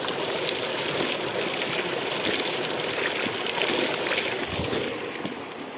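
Water pours from a large village spout in a steady, close rushing splash that continues evenly and eases slightly near the end.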